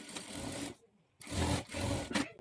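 A sewing machine stitches a blouse lining in two short runs separated by a brief pause, giving a close, buzzing whir with a low motor hum.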